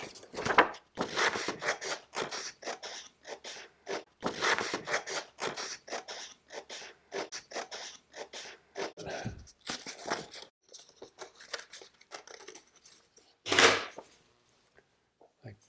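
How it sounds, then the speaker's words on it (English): Scissors cutting a circle out of paper or felt for a toy hat brim: rapid, close, crisp snips in steady runs with short pauses, ending in a louder rustle and then quiet. "Now I'll just cut that out."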